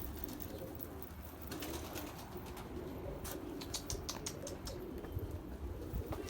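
Escaped Mardin pigeons coo softly outdoors in a steady murmur, with intermittent wing flaps and light chirps breaking through over faint background noise.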